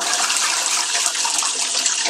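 A toilet flushes with a loud, steady rush of water, close and unbroken for two seconds, with no voices over it.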